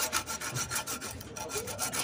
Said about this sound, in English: bend the axle blade to sharpen the threads